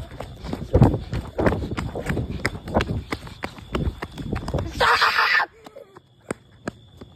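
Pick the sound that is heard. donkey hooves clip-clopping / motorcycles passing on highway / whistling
donkey hooves clip-clopping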